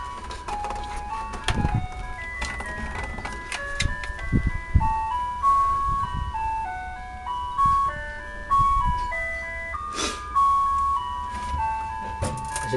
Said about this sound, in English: Nice little music box.